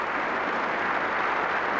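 Crowd applause at a 1996 UK Championship snooker quarter-final, a steady dense wash of clapping that fills the whole moment, loud and continuous with no talk over it.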